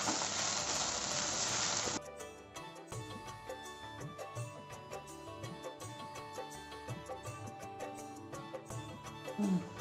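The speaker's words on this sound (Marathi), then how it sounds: "ह्यात आपण खोबरं घालून देऊ ओलं खोबरं आणि हे पण छान परतून घेऊया" Chopped onion and fresh grated coconut fry in oil in a pan for a Malvani masala, giving a soft sizzle that fades quickly as stirring clinks and scrapes continue.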